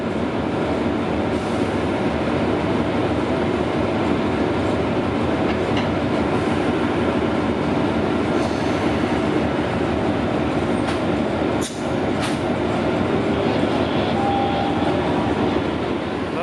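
Thai special express train 37 with a Hitachi diesel locomotive at Hua Lamphong station in Bangkok, a loud continuous rumble of rolling rail cars and wheels with occasional clicks and a brief squeal, no talking.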